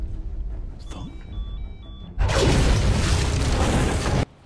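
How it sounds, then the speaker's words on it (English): A large film explosion from The Dark Knight (2008) bursts in loud and sustained after a quieter stretch with faint beeping tones, its broad roar filling about two seconds before cutting off abruptly. "That was a really good explosion, too."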